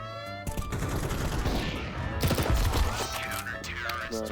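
Rapid bursts of Counter-Strike 2 gunfire crackle over a busy, dense mix of game sounds, with several overlapping shots and a sustained loud barrage.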